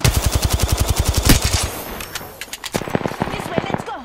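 Rapid automatic gunfire in a first-person shooter game, a loud, tightly spaced string of shots for over a second, followed by a pause and then further quicker bursts of fire.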